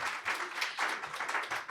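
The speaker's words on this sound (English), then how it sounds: "Please, can we put a round of applause for our doctors on stage?" An audience applauds doctors on stage in a brief burst of dense, sustained clapping from many hands that stays even and fairly loud throughout.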